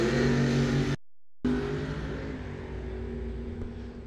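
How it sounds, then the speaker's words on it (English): Drag race cars at Coles County Dragway roar loudly, including a green Dodge Dart Mopar; a brief cut interrupts the sound, then the engines drone on steadily with no talk over them. "Wow, what a drag race"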